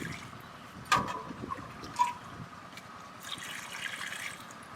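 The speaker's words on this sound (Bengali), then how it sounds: "এবার জল দিয়ে দিচ্ছি। জল দিয়ে ভালো করে আমি ধুয়ে নেব।" Quiet water from a kitchen pour swishes and drips over cut raw potatoes being washed for homemade chips, with a few soft splashy knocks and no talking.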